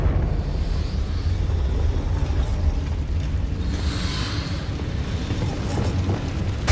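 A Confringo spell explodes in Hogwarts Legacy, with a deep, rumbling blast that swells and fades over several seconds amid continuous low booming.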